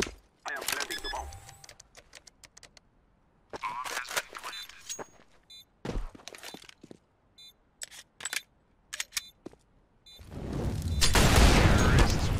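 Gunfire in the video game CS:GO, sharp bursts of shots scattered across the round with pauses between them, ending in a loud sustained blast, with voices talking over the action.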